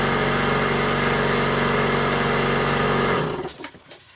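A large air compressor's loud, steady motor hums and rattles, then shuts off near the end and winds down into quiet.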